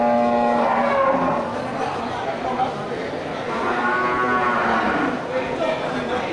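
Water buffalo low and call repeatedly with long, harmonic moos at a busy buffalo market where bulls are sold for slaughter, several animals overlapping against a steady crowd murmur.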